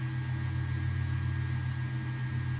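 Ship propellers heard over sonar in the Wolfpack submarine game come through as a steady low droning hum with rhythmic churning and a constant background hiss, with no speech.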